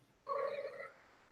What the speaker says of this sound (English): This cat is going crazy tonight.